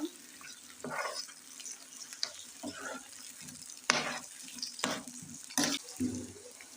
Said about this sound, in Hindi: तो अब इसमें मैं शामिल करूँगी 2 टेबलस्पून टमाटर, 3 टेबलस्पून प्याज। इसे मिक्स करेंगे